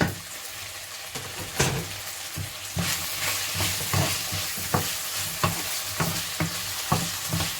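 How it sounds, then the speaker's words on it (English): Chopped chili and garlic sizzle and fry steadily in a pan for Nigerian meat pie filling, with repeated sharp stirring scrapes and clinks cutting through the constant hiss, close and moderately loud. "So I'm gonna put in my chopped chili in there and the garlic"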